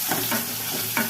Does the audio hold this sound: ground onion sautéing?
yes